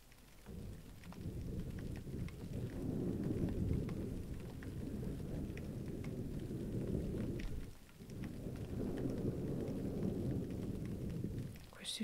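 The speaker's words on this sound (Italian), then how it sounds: "Questi sono ogni tanto i tuoni." Steady rain drumming on an umbrella with a low, rumbling roll of thunder beneath it, loud and continuous, easing briefly before the downpour resumes.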